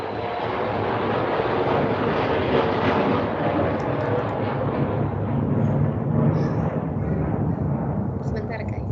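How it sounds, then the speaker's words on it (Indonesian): Airplane passing overhead as a steady, loud broadband rumble that holds throughout without fading. "itu pesawat lewat"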